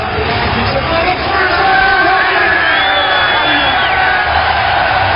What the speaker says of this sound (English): And this crowd, listen to this crowd, man.